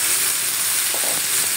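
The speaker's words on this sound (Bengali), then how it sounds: "আমি এখন মশলা মাখানো মাছটা দিয়ে দিচ্ছি" Spiced small fish dropped into hot oil with fried onions for a mung dal and beef dish, giving a steady, loud, close sizzle with a few faint clinks, no voices.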